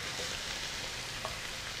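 Three garlic cloves fry with onions in hot oil in a pan, giving a steady, even sizzle that runs alone for the whole moment.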